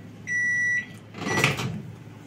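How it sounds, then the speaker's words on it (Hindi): A Panasonic microwave oven's timer beeps steadily for about half a second, followed by faint clattering handling noise nearby. "मैंने अपने पैनासोनिक माइक्रोवेव ओवन में जो टाइम दिया था वो हो चुका है कंप्लीट"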